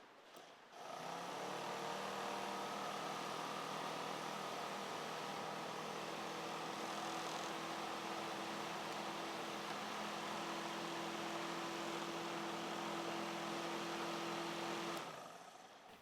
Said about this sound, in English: This refurbished motor now moves a lot of air and it's quiet.